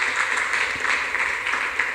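A church congregation applauding during a service, a steady dense wash of clapping from many hands, filling the space evenly with no pauses.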